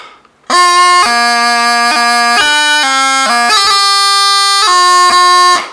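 Bagpipe melody from "Song of the Glen" with a steady drone underneath, the chanter stepping through notes with quick grace-note ornaments, the F doubling's second grace note on the beat; loud, close, and unaccompanied.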